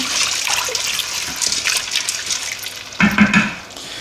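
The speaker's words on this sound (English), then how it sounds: "So we're adding 2 litres of water, like so." Water splashes and gushes steadily into an Instant Pot, about 2 litres, with a brief louder pouring surge toward the end.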